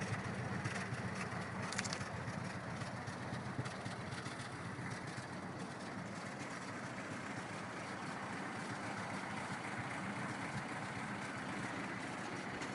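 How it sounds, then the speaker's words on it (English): A 1934 Packard Super 8 engine idling steadily just after start-up, a low, even rumble with exhaust burble, constant and moderately close with no speech. "The car's just been started up, so there's a little bit of moisture in the exhaust, but it's absolutely a wonderfully running car."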